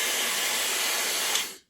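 A Dreame Hair Glory hair dryer blows on its higher airflow setting, a close, steady airy hiss that cuts off abruptly at the end.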